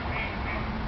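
Ducks quack in a park in Düsseldorf, a short, dense burst of quacking lasting under a second.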